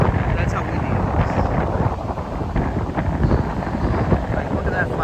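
Strong gusts from a hurricane whip across an open beach, a loud, continuous roar of wind buffeting the microphone for several seconds with no letup.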